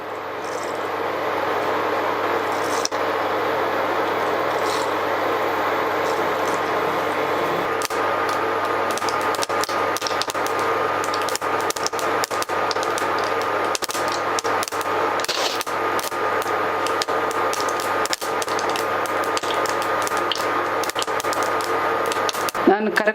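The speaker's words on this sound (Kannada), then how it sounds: "ಈಗ ಎಣ್ಣೆ ಕಾದಿದೆ, ನಾನು ಸ್ವಲ್ಪ ಸಾಸಿವೆ ಹಾಕ್ತಾಯಿದ್ದೀನಿ." Mustard seeds sputtering in hot oil for a kosambari side dish: a steady close sizzle with scattered sharp crackles and pops throughout, while a person talks over it.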